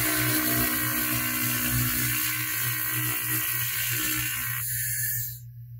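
A 1000 watt fiber laser cleans rust off a weathered steel tube with a steady whirring, buzzing drone and faint crackle that carries on until it cuts off abruptly near the end, with no talking.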